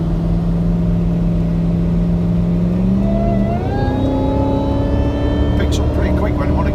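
A custom-supercharged Audi A6 accelerates hard, its engine note climbing steadily as the supercharger whine winds higher, heard from inside the car as a loud, continuous rising drone.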